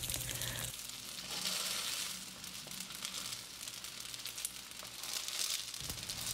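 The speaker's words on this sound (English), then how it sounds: "put the boiled dumplings in the pan. Fry them for about 3 to 4 minutes on medium-low" Boiled Korean flat dumplings frying in a nonstick pan over medium-low heat, a steady, close, hissing sizzle throughout with faint crackles and a small shift partway through, no talk.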